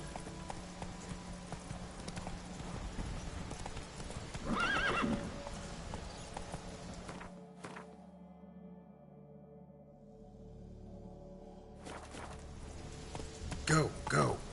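Horse hooves clip-clop at a galloping pace in The Witcher 3, with a whinny rising near the middle and again near the end; a brief lull falls midway, and a voice speaks over the game sound.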